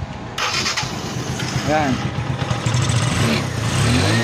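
A Honda CT125 motorcycle, recently repaired for a 6003 bearing and camshaft issue, cranks and fires, then settles into a steady, close idle that grows slightly louder, while someone speaks briefly over the engine.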